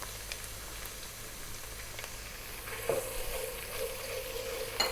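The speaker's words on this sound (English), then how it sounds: "Next up we're going to add 2 tablespoons of garlic ginger paste." Garlic ginger paste sizzling in a hot pan for prawn biryani, a soft continuous frying hiss that swells after a stir partway through, close and alone without talk.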